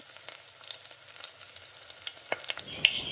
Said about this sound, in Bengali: তেলটা গরম হওয়ার পর চিকেনগুলোকে ফ্রাই করে নিচ্ছি